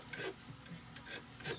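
A hand file rasps burrs off a sterling silver fish pendant with a fork and labradorite, three or four short, close strokes under light pressure, with no talking.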